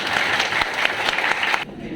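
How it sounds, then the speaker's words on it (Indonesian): Steady applause for Ibu Yuni at a 2022 Soka Gakkai Nagoya gathering, a dense burst of clapping that cuts off abruptly near the end. "Sekali lagi mari kita berikan tepuk tangan bagi kepada Ibu Yuni."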